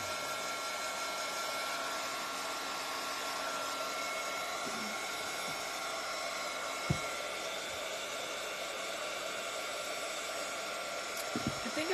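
A hair dryer runs steadily to dry a freshly painted coat, its broad even airy whoosh continuous and fairly close, with occasional faint clicks and no clear talking.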